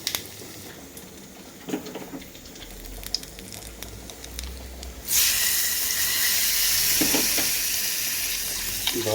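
Mustard seeds and asafoetida hit hot oil for a Telugu orange karam tempering, starting quiet with light clinks before a loud, sudden sizzle bursts in and hisses steadily to the end.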